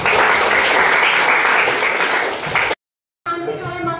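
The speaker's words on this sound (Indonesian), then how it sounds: "Tepuk tangan untuk 2 kelompok" A classroom of students applauds two groups, a dense, loud wash of clapping that cuts off abruptly, followed by a voice speaking.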